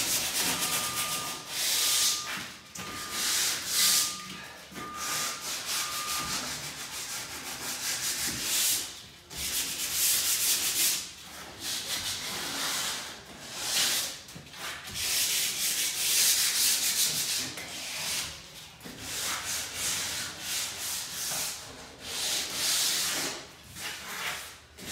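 Window frames in a new-build house being rubbed down by hand before painting, repeated close scratchy sanding strokes in uneven bursts with short pauses, a faint beeping tone early on, and no talking.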